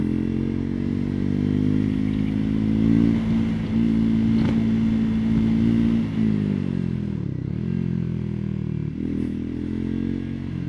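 Triumph 400 XC motorcycle engine droning steadily as it accelerates toward eighty, its pitch rising then dipping near the end as it slows for a brake test, loud and continuous with wind noise.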